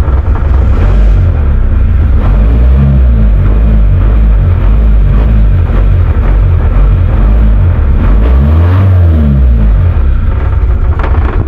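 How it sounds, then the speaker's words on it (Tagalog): A vehicle engine idles and revs to warm up, a loud, close rumble that swells with a couple of rising revs before settling back, continuous throughout. "Tamang ko lang, painit sa makina."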